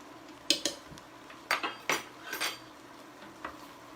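Metal spoons clink against a dish while cooked pork is tasted: a few sharp, bright taps scattered over a few seconds, close and clear, with no voices.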